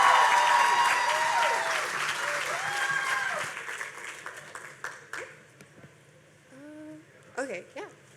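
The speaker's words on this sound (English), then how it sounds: "give her a big round of applause" An audience at a panel event breaks into loud, dense applause that gradually thins out and fades, giving way to a voice speaking at the end.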